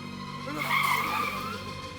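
Tires squeal as a car brakes hard, a rising screech over the engine that fades out within a couple of seconds.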